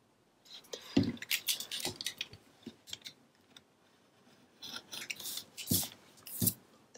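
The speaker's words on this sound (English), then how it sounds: "I might come back through and trim that one more time" Scissors snip and trim paper for a scrapbook page, a quick run of close, crisp cuts followed by a pause and a second cluster of snips.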